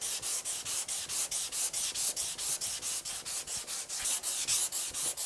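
Sandpaper rubs back and forth over a wooden guitar fretboard in quick, even strokes, about three per second. The rasping is close and steady, with no voices.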